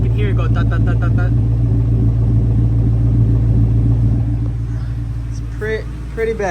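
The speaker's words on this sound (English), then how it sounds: "start it up so you can hear how bad this misfire is" A 2003 Ford Mustang GT V8 idling rough with an ignition misfire, a loud close rumble with a steady uneven beat, and a voice speaking over the start and again near the end.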